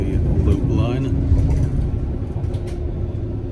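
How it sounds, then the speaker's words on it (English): A passenger train on the line near Arnside and Silverdale crosses from the up main onto the loop line, giving a rumbling, clattering ride with creaks from inside the carriage as a person talks over it. "now we're just moving across to the loop line."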